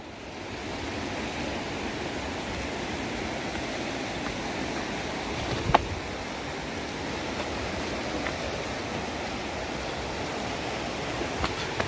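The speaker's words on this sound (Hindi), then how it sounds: "यह है नदी" A mountain river on the road through Baralacha Pass toward Ladakh rushes in a steady broad roar, constant and fairly close, with no talk over it.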